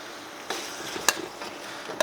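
Meat sizzles faintly in a hot pan for chow mein, a soft steady hiss broken by a few sharp clicks of a utensil against the pan.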